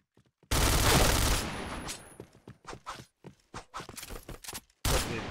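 Rapid automatic gunfire bursts in the online shooter Point Blank, a long loud stream of shots followed by several shorter choppy volleys and a final burst, with little talk over it.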